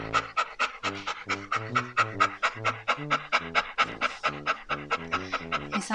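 A dog pants rapidly and rhythmically up close after eating a meaty bone, with quick, steady breaths throughout and no talk.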